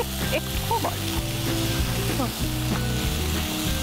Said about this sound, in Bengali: পেঁয়াজটা একটু ভাজা ভাজা হবে।